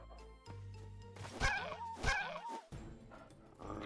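A dog in the video game Fallout 3 gives two close, sharp bark-like yelps over a low game background hum, followed by softer whimpering sounds.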